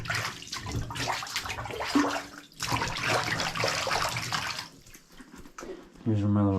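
Climbing rope is swished and sloshed through soapy water in a tub, with continuous splashing and running water as someone talks over it, ending in a brief gurgling pour.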